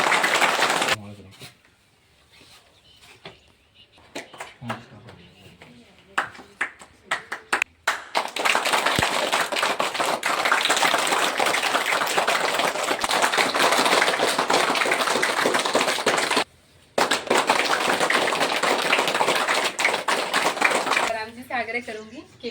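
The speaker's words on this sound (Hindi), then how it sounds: "विद्यार्थी जोरदार तालियों से उनका स्वागत करें" Students at a government primary school burst into loud, sustained clapping to welcome the headmaster, a dense wash of applause lasting many seconds after brief speech, with a short pause and scattered claps at the end.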